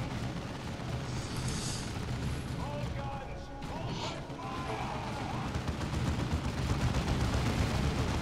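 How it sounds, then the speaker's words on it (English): Gunfire and battle noise from Warhammer 40k Dawn of War II, with dense, continuous loud rattling shots and crashes mixed into game sound, and a voice speaking briefly over it. "They are getting shoot at, shot at by a lot of dudes."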